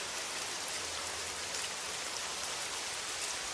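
Rain falls in a dense, steady hiss at a sleeping-cabin window on a night train crossing Sweden, soft and even throughout with no voices.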